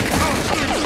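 Shotgun fire in a bounty-hunt video game, a dense burst of overlapping blasts with rumbling low end filling the whole moment, loud and close with no voices over it.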